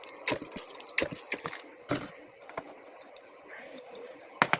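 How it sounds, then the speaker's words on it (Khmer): Fish sauce is poured into a pork and fish dish being cooked, giving close, intermittent splashes and trickles mixed with a few sharp clatters of utensils. "តមកយើងចាក់ទឹកត្រីចូល"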